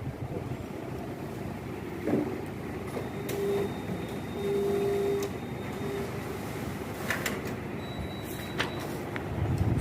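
Canon 3225/3235/3245 office photocopier making a reduced A3 to A4 copy of a document: a steady mechanical whir and hum of rollers and feed running throughout, with a few brief clicks and higher whines, no talk.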